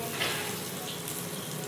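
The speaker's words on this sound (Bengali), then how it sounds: "আলুটাকে ভেজে নেব।" Potatoes fry in a pan with a steady, close hiss and faint crackle throughout the short stretch.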